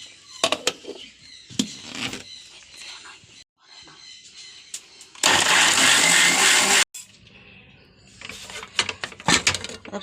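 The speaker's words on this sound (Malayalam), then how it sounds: "എനിക്ക് ആവശ്യത്തിനുള്ള നാളികേരം അരയ്ക്കാം" A mixer grinder whirs loudly for about a second and a half, grinding grated coconut with garlic and cumin in water, framed by quieter kitchen handling noises and bits of talk before and after.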